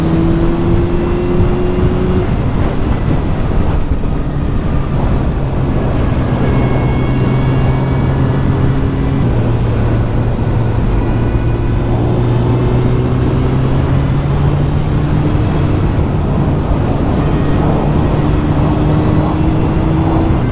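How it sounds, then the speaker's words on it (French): A 1999 Honda CBR 900 Fireblade motorcycle fitted with an aftermarket MIC exhaust runs steadily, its fairly quiet engine note rising and falling gently through smooth gear changes. The hum is continuous, with no voices over it. "La moto est pas très bruyante"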